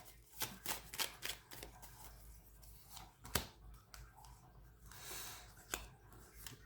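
Lenormand cards being shuffled and drawn up close, quick papery riffles and sharp flicks in irregular bursts, quiet and without speech.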